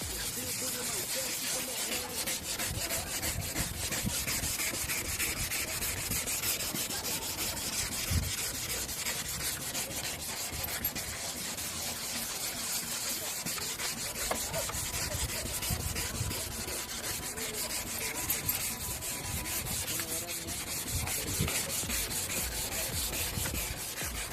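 Continuous abrasive rubbing of sandpaper against a yellowed, sun-damaged plastic car headlight, a steady close scratching hiss that keeps up for the whole stretch.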